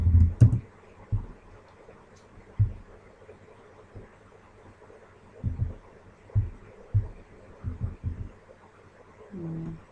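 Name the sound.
typing commands on a computer keyboard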